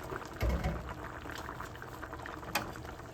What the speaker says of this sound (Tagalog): Ayan, kulo na siya.